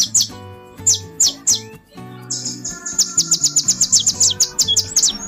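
A kolibri ninja songbird chirps close and loud, first a few spaced sharp calls, then a rapid repeated run of bright tweets over a low background tone, with no talking.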